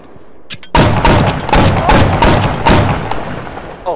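Rapid volley of flintlock gunfire in the video game Flintlock Mayhem, a dense burst of close, loud overlapping shots lasting a few seconds before tailing off.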